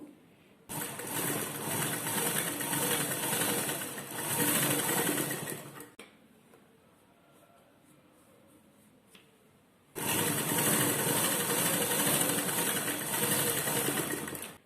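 A sewing machine stitching the left shoulder seam of a lined blouse jacket, a loud close steady whirring run that pauses for several seconds of quiet handling before a second long burst of stitching.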